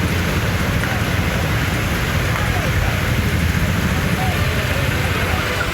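Moderate rain falls steadily as a dense, even hiss that continues throughout with no break.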